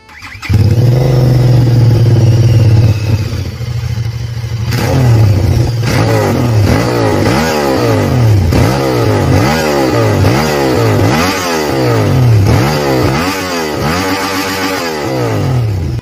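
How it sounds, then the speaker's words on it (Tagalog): Motorcycle engine with a 360 degree firing order on a budget Ducati-styled sportsbike, starting up, idling briefly, then revved repeatedly in loud, close, rising and falling blips for about sixteen seconds with no talk. "talagang big bike sounds ang engine nito dahil na din sa kanyang 360 degree firing order"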